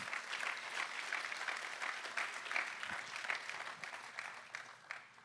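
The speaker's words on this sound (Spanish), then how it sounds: "Dale un aplauso." A congregation applauds during a church service, steady sustained clapping from many hands that fills the room and tapers slightly toward the end.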